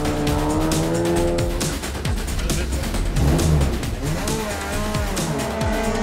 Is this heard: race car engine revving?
yes